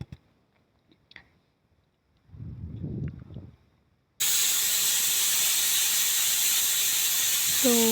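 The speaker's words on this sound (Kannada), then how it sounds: "cooker whistle ಹಾಕ್ಸ್ಕೊಳ್ಳೋಣ" Quiet clinks and a soft rustle, then a pressure cooker cooking soaked legumes for sambar whistles suddenly as a loud, sustained shrill hiss that continues to the end.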